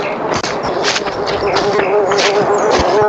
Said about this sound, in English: There was the buzzing flies right there.